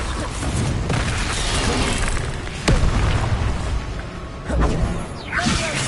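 Spell blasts from Bombarda and Confringo in the Hogwarts Legacy video game, sharp booming bursts with whooshes over a dense, noisy battle backdrop, the loudest hits landing near the middle and end.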